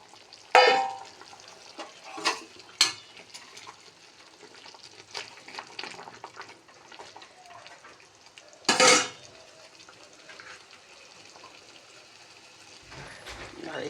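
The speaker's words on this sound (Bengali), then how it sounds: "এই মাছগুলো দিয়ে দিলাম।" Pabda fish added to a pot of boiling curry with ground spices, stirred with a utensil: a few sharp clanks and scrapes against the pot over a quiet, steady background, with no talking.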